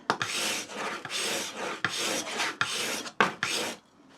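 A file or hone rasps across a blade edge on a bench sharpening setup to remove the burr, a series of short, close, scraping strokes in an uneven back-and-forth rhythm with brief pauses between them.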